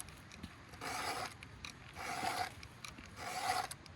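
A chainsaw chain is sharpened with a hand file out in the field, heard as three close, rhythmic rasping strokes with short pauses between them, fairly quiet and with no talk.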